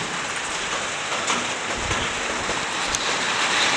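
Steady rain falls outside a room at night, a dense continuous hiss with no pauses, fairly loud and close throughout and alone without voices.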